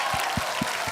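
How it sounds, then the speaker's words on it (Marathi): A television studio audience bursts into applause, a broad wash of clapping with a few stronger claps standing out, sustained through the moment. "जोरदार टाळ्या"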